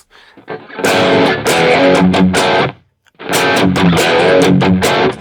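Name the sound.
electric guitar with hall reverb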